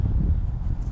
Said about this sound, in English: Sorry if the wind is a little bit killer out here today.